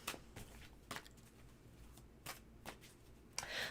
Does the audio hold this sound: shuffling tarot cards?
yes